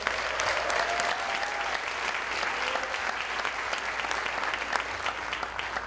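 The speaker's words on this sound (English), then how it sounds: "can we give a round of applause for that?" Steady, sustained applause from a theater audience at a TEDx event, a dense wash of clapping filling the whole stretch with no talk on top.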